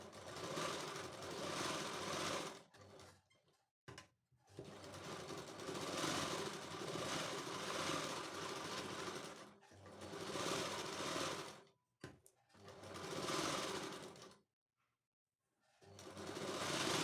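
An electric sewing machine stitches a blouse in loud, steady bursts of fast whirring, separated by short pauses between seams.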